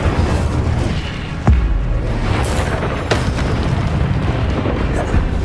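An Incendio fire spell erupts in the Hogwarts Legacy video game. A sudden booming burst rises over a dense, roaring bed of combat noise, followed by a few sharper pops.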